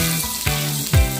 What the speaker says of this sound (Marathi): आता बटाटे चांगलं परतून घेऊ।